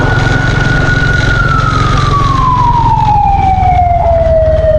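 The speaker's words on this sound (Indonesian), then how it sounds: "Main-main dengan sirine nggak boleh tuh." A loud, close emergency siren wails on a single drawn-out tone that slowly falls in pitch, heard from a motorbike riding through a market street, over steady engine and road noise.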